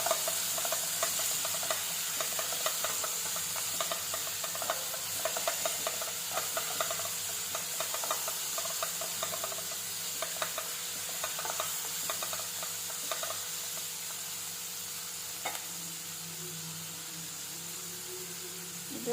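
Chopped drumstick and other ingredients for palya sizzle steadily in a hot pan while a spoon stirs them now and then, a continuous close frying hiss with soft scraping taps throughout.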